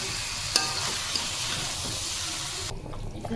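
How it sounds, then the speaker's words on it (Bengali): Peanuts and potato pieces are stirred through spice paste frying in a pan, giving a close, steady sizzle with scraping spoon strokes and a faint watery hiss that drops away near the end. "মশলা খুব ভালোভাবে কষিয়ে নিচ্ছে আর করতে আছে বাদাম আলুগুলো দিয়ে দিলাম নাড়াচাড়া করে"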